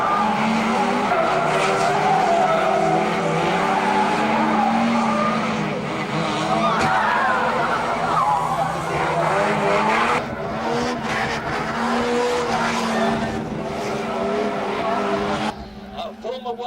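Banger racing cars skid and slide around an oval track at Bovingdon Raceway, a continuous roar of engines and tyre noise with a commentator talking over it throughout.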